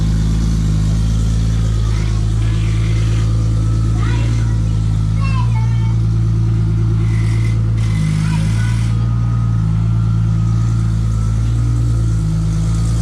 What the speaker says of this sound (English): Wife moving the Supra.